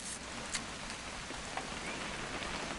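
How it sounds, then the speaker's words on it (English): Quiet, steady rainfall patters continuously on surfaces outdoors, with a few sharper drips standing out from the soft, even hiss. "It's gonna rain the whole weekend, isn't it?"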